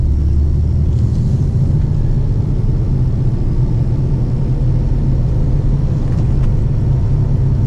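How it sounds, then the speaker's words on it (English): Porsche 993-generation 911 cruising at gentle speed along a countryside road in Spain, a steady low engine and road rumble filling the cabin continuously from start to finish, with no talking. "I've enjoyed today just driving around in this 911."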